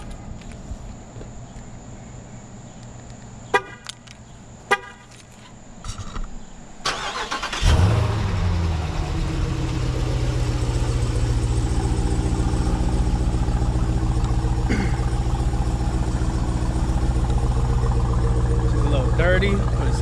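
A Jeep Grand Cherokee Trackhawk starts cold. A few sharp clicks and handling noises come first, then the engine cranks and catches with a loud roar and settles into a deep, steady idle close by.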